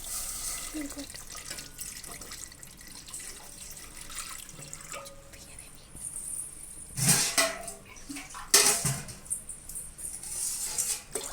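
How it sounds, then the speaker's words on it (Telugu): Water pours into a cooking pot holding an egg box on a stove, a faint steady trickle with a couple of louder splashing bursts midway. "వాటర్ పోసుకోవాలి"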